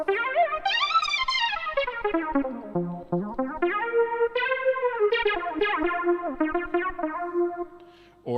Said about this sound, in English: So it detunes these unison sounds. So it fattens it up a little.